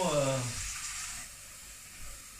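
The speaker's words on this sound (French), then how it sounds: "Vous commencez à mettre une casserole d'eau." Water runs from a tap into a cooking pot with a steady rushing hiss, while a voice speaks briefly in French at the start.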